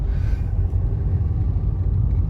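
A car creeps slowly along a busy road at 7:30 in the evening, a steady low engine rumble from inside the cabin with surrounding traffic noise and no talking.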